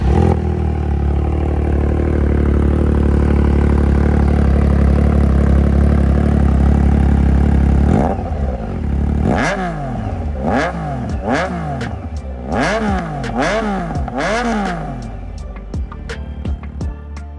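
A 2023 Triumph Trident motorcycle with an SC Project exhaust and quick shifter idles steadily, then is revved hard in a run of sharp, rising and falling blips close by, with no one talking.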